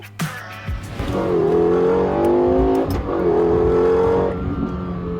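Car engine revving hard from a collection of supercars and JDM cars, rising through pitch in two long pulls with a short dip between, loud and close after a few clicks at the start.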